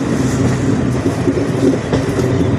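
A Gorakhpur–Deoghar Shravani Mela Express passes on a curve near Bhatni Junction, its wheels and carriages making a loud, steady rumbling roar close by with a faint rhythmic clatter and no voices.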